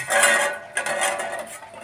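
A Belgian Malinois eating from a metal pot, with clattering, scraping metallic clinks and licking noises close up in irregular bursts, no voices.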